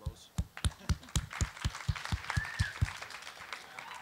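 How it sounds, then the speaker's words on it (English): Audience at a panel discussion on cities and the sharing economy claps, a sparse run of distinct, individual hand claps with a steady rhythm, moderate in level, rising slightly into a fuller patter before fading. "round of applause"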